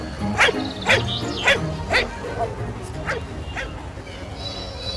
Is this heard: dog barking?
yes